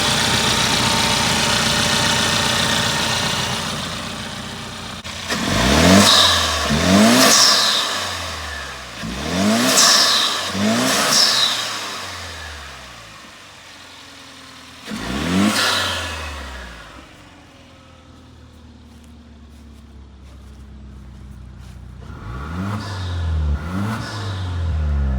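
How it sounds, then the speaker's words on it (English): Kia Stinger 2.0T turbocharged engine with a cold air intake, idling then revving hard in repeated sharp bursts, two quick pairs and a single blip followed by another rev, each dropping back to idle, close and loud. "So you'll hear a lot more noises under the hood of this thing with the cooled air intake"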